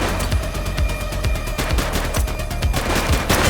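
An armed suspect firing at police in The Precinct, a loud, close burst of rapid repeated shots in steady rhythm, with no voices.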